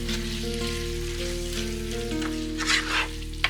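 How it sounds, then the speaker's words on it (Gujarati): Beef liver (kaleji) sizzles and bubbles in a masala gravy while being stirred, a dense continuous frying hiss over a low steady hum, with a couple of brief scraping clatters near the end. "આ સમયે આપણે કલેજીને એડ કરીએ. બધાને સરસ ફેરવી દઈએ."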